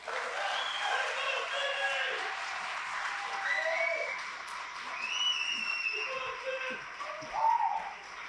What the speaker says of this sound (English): Another round of applause for Jim Stoker.